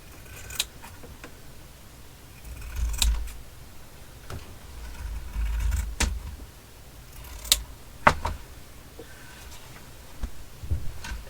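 Red felt cut by hand with scissors, heard as soft, close snips and crisp ticks at irregular intervals over a quiet background with low handling thumps.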